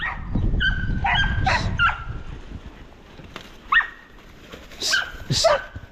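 A dog barks and yips in short, scattered bursts, with rustling and movement noise in between, moderately close.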